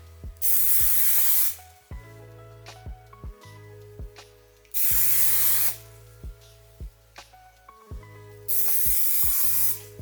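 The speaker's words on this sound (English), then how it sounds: "Now we'll use our volume spray." Three long hissing bursts of hair volume spray at close range, separated by pauses filled with light clicks and handling noises.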